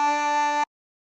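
A harmonica sounds a single short, steady drawn note on the lowest hole, lasting just over half a second before stopping abruptly into silence.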